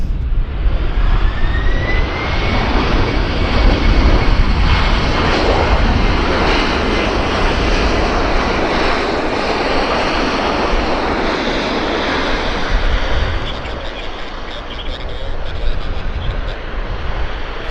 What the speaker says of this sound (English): That is some serious reverse thrust